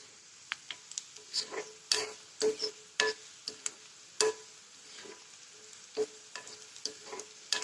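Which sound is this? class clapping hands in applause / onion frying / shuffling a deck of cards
onion frying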